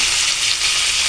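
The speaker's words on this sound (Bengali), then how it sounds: "সবজিগুলো অ্যাড করে এটা আমি নেড়ে করে দেবো, যাতে একটু ভাজা হয়।" Vegetables sizzle loudly in a hot pan while being stirred and fried, giving a dense, continuous crackle with no pauses.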